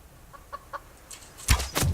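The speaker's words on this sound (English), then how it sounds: "There's a chicken." A chicken in the survival video game Subsistence gives a few faint, short clucks, followed by two louder, sharper bursts of sound.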